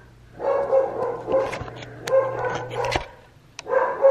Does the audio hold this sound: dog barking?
yes